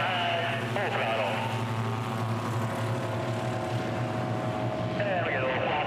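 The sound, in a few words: racing aircraft engine at full throttle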